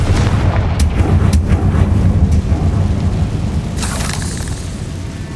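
In Hogwarts Legacy, a Confringo blasting spell goes off with loud, deep rumbling booms and sharp cracks that roll on for several seconds, then fade into a low rumble.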